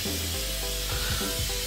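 An aerosol can of Scotchgard fabric protector sprays onto hanging clothes, giving a steady, close hiss that runs unbroken for under two seconds.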